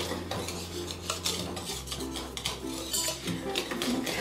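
A small hand whisk beating peach cobbler batter in a bowl, rapid rhythmic clinking and scraping of metal against the bowl, close and continuous with no talk.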